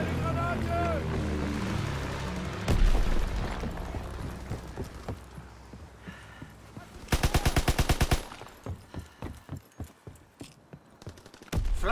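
Flak guns open up in Call of Duty: WWII multiplayer, a loud rapid burst of anti-aircraft fire midway, then scattered separate shots and booms, with game announcer speech and other effects earlier.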